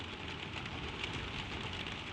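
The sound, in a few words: gentle rain falling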